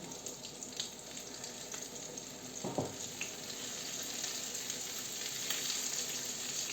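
Sliced zucchini with meat sizzles in a pan over medium heat, a steady crackling hiss throughout with a brief clatter of a utensil partway, no voices.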